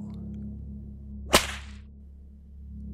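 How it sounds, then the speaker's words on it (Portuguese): Single sharp whip crack, close and loud, a sudden snap followed by a brief hissing tail, set against a low steady drone with no voices. "O estalido de um chicote."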